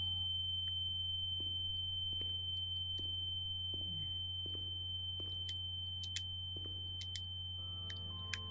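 A steady, low electronic ringing tone in the video game The Town of Light hums continuously throughout, with faint clicks and brief high beeps scattered near the end.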